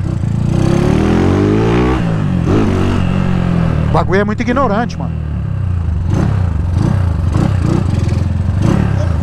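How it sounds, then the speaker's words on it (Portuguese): A Honda Titan motorcycle engine, just repaired after an electrical fault, revs up in a rising and falling sweep and then settles to a steady idle, loud and close, with someone talking over it. "a moto já responde, pá."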